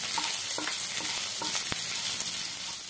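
Ginger and green chillies fry in hot oil in a kadai for homemade veg spring rolls, a loud continuous close sizzle with a few light spoon stirs and scrapes on top.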